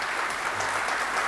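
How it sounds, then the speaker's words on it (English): Audience applause at a technology talk event, a brief, dense and even burst of clapping held at steady loudness throughout. "can we have a huge round of applause for the Manjunath?"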